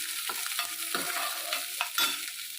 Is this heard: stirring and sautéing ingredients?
yes